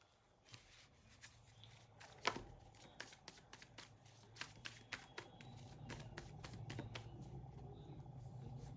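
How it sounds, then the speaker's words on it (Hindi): A deck of tarot cards is shuffled by hand for a love reading. Soft papery riffles and flicks grow steadily denser and more continuous, with one sharper knock partway through. The shuffling is close and fairly quiet, and nobody talks over it. "मुझे एक ही निकालना था, तो हम दोबारा शफल करेंगे।"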